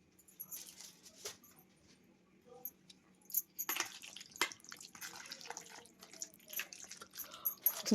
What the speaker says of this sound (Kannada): ನೀರು ಬಿಟ್ಕೊಳ್ತೇನೆ. ಅದರಲ್ಲೇ ಸ್ವಲ್ಪ ಲೈಟಾಗಿ ಆ್ಯಡ್ ಮಾಡ್ತೀನಿ.